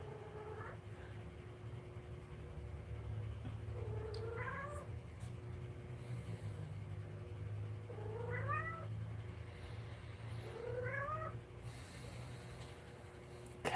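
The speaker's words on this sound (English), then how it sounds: "Cat." A cat meows four times at spaced intervals, each a rising drawn-out call, fairly faint and slightly distant over a steady low indoor hum.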